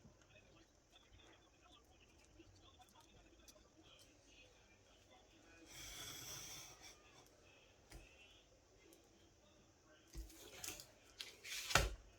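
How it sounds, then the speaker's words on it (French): Scissors or a cutting tool cut lines for a scrapbooking photo album cover, with a longer rasping cut followed by a few short snips and clicks at close range over faint background talk. "On va couper. Mais avec précision."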